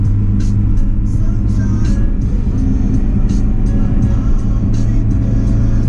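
A Honda Del Sol with a D16Z6 engine runs steadily at a low drone while a faint hiss and ticking sit on top, with no clear rev climb or gear change evident.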